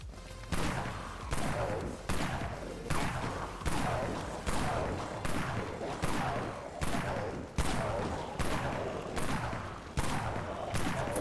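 Rifle fire in the zombie shooter Dead Frontier, a steady run of about a dozen loud, sharp shots spaced roughly evenly, each with a short decaying tail, no talk over them.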